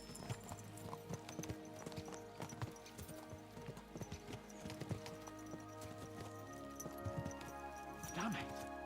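Horses gallop along in the video game Kingdom Come: Deliverance, their hooves beating a quick, steady clip-clop rhythm close by. Someone talks over the hoofbeats, and a faint whinny sounds near the end.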